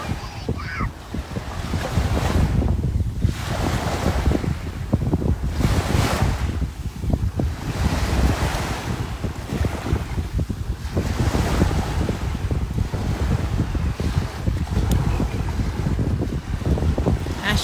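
Ocean surf breaks on a beach in a steady roar with rhythmic swells, mixed with heavy wind buffeting a microphone and no clear speech.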